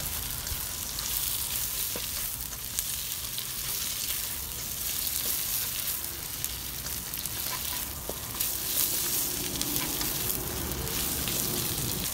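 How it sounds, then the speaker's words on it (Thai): Meatballs and sausages stir-fried in a pan for a Thai instant noodle dish, a continuous soft sizzle with scraping stirring strokes, steady and close, no talk. "ขั้นตอนนี้เราก็ผัดต่อค่ะผัดไปเรื่อยๆนะคะ"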